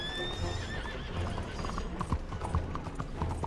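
Horse hooves clip-clopping in Red Dead Redemption 2, a quick rhythmic run of hoof strikes with a whinny near the start, over a busy game soundscape.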